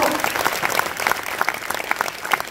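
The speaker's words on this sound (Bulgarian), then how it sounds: "ви моля за аплодисменти" An audience at a children's music ensemble's anniversary concert in Stara Zagora claps, a dense, even, fairly loud patter of many hands sustained throughout, without speech.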